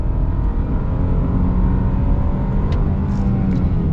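A 2023 Kia Sportage X-Pro Prestige accelerates at full throttle, its engine a loud, steady droning roar heard from inside the cabin, running unbroken for a few seconds with no talk.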